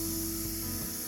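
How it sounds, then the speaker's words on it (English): A new garden hose with a multi-pattern nozzle sprays water over potato containers, giving a steady, even hiss that runs without a break for about a second. "And I'm going to water this one in."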